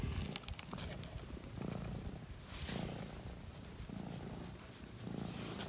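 A house cat purrs close by, a soft, steady rumble pulsing in slow, regular cycles of inhale and exhale, faint but continuous throughout, with no voices.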